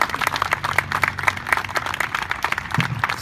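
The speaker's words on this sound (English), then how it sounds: "Can we just give these parents and these youth another round of applause?" A rally crowd claps in loose, uneven applause with scattered cheering and voices mixed in, staying fairly close and steady throughout.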